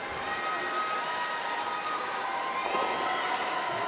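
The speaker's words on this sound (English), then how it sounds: "Crowd getting into it." Crowd at a women's world curling championship match between Sweden and the USA cheering and murmuring in a large arena, a steady, fairly faint wash of voices with no single voice standing out.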